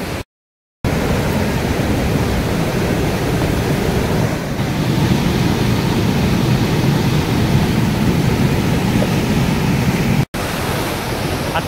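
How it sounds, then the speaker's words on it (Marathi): Strong water flow near Shitkada waterfall close to Nashik, a dense, continuous roar of rushing water that stays loud and even throughout, with no voices and only a couple of brief dropouts. "आता प्रवाह थोडासा जास्त वाटतोय मला पाण्याचा"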